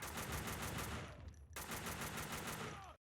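Rapid automatic AK rifle fire in the shooter Max Payne 2, a dense stream of gunshots with a brief break before a second burst that cuts off abruptly.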